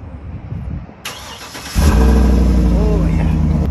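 An engine cranks briefly, then a 2012 Cadillac Escalade EXT's 6.2-litre V8 catches and settles into a loud, deep, throaty idle, recorded up close, after some muffled background noise and movement.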